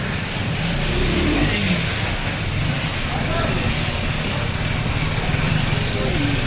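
A nearby KTM Adventure motorcycle engine hums and revs at a steady mid pitch at a service center while people talk over it.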